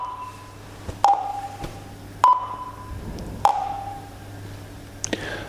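A painting machine signals that its color calibration is complete with three clear electronic beeps about a second apart. A fainter blip follows over a low, steady machine hum.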